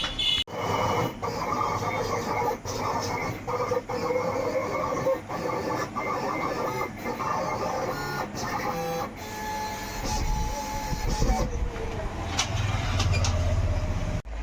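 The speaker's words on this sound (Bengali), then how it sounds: "এখন মেশিন দিয়ে আমাদের কাটা হচ্ছে।" Machine cutting a motorcycle sticker for a Hero Xtreme 125R, a continuous mechanical whirring with regular clicks and short stepping bursts, then a deeper rumble near the end.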